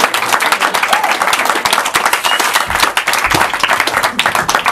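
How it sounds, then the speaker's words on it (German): Audience applause at an improv theater show, close, loud clapping from many hands in a brisk, crackling burst that carries through to the end. "Miko Maus kriegt auch einen Applaus"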